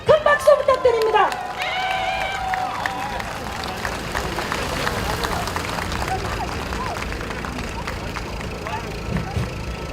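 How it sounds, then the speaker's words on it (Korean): Audience at a political rally applauding as a Busan university professor is introduced, sustained clapping and crowd murmur after a loud voice opens the moment. "큰 박수 부탁드립니다."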